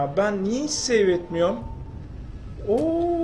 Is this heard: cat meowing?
yes